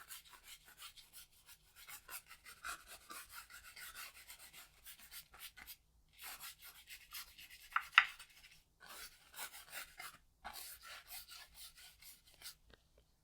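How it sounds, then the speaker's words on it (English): A paintbrush scrubbing paint into a canvas gives steady, close, dry rhythmic scratching and rubbing in short repeated strokes, with brief pauses between passes and no talking. "I'm just scrubbing this paint into the canvas at this point, just to get the dark going."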